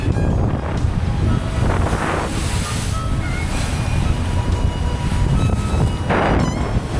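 Loud, steady wind roaring across a sailboat under sail at sea on a warm, sunny passage toward Tonga, with waves washing and surging constantly beneath it and no pauses.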